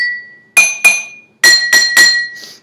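Empty drinking glasses tapped with ordinary spoons, five bright ringing clinks in two quick groups, close and loud with shimmering decay, no speech.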